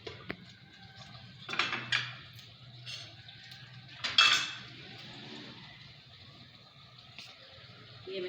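Dried fenugreek (kasuri methi) being washed in a home kitchen, heard as scattered clinks and clatters of metal dishes and utensils with faint running water between bursts, close by and without talk.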